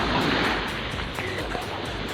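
Sea waves washing onto a beach during a seaside swim outing, a steady broad wash of surf with some wind rumble on the microphone, continuous and moderately close.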